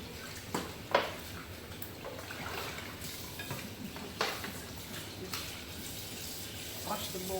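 Tap water runs steadily into a sink while pork chops, soaked in lemon water, are rinsed, making a soft continuous splashing broken by a few sharper knocks and splashes.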